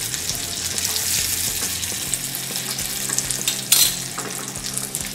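Curry leaves and dried red chillies crackle and sizzle in hot tempering oil for an Indian chutney, a dense steady frying hiss with a sharp pop near the end.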